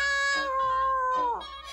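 A cartoon cat lets out a drawn-out, wavering meow that sweeps downward at the end, with a quieter second cry following, heard alone against a faint steady background.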